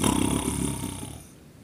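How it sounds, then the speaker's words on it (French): Someone snores in a thick, rattling drone that starts loud and fades steadily over under two seconds, heard alone. "Elle ronfle."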